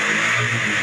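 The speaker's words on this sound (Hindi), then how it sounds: "अब मैं आरपीएम को ऊपर नीचे कर सकता हूँ" Hero Glamour BS6 motorcycle engine running close and loud with the RPM being raised and lowered, a steady buzzing drone that swells slightly and eases back, no voices over it.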